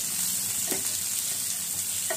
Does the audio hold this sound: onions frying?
yes